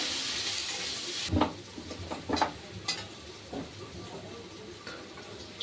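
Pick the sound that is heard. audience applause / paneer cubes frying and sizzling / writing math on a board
paneer cubes frying and sizzling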